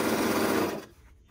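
A Bernette 64 Airlock serger overlocker running at speed, a loud steady mechanical whir for most of a second that abruptly stops, leaving a faint quiet tail.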